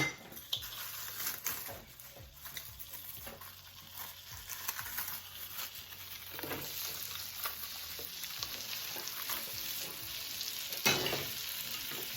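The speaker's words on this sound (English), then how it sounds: "Then we're going to add the onion." Onion sautéing in a pan for jerk shrimp rasta pasta, a continuous gentle sizzle with intermittent stirring scrapes and light clinks of utensil on pan, moderately quiet and free of talk.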